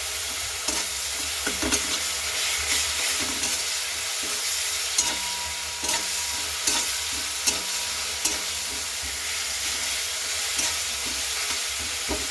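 Garlic paste and chilli powder fry in a pan for a spinach curry, producing a steady close sizzle layered with repeated rhythmic spatula scrapes and taps against the metal.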